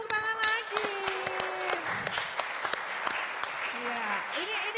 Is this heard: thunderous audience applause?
yes